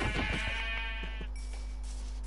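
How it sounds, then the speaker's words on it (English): Sheep bleat in a video game, a few short wavering bleats over a steady low background hum, moderately loud with no talk. "Hear animals running about near me, and is that sheep?"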